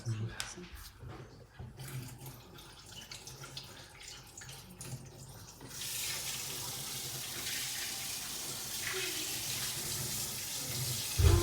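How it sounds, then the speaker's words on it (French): Tap water runs into a kitchen sink as hands are washed during brioche baking. It starts with a steady, hissing rush about halfway through, after quieter clattering, and faint voices are heard. "Tu peux laver les mains."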